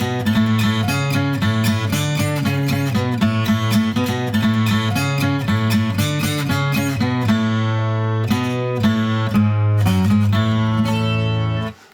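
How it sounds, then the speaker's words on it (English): Electric guitar solo from a song, played in a lesson, with a fast, steady run of bright picked notes that stays loud and continuous until it stops abruptly near the end. "And of course, we all know the solo, and it sounds like this."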